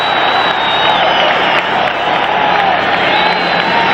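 A sellout stadium crowd at a 1979 NFL kickoff between Baltimore and New England roars in a steady, loud, continuous wash of cheering and noise.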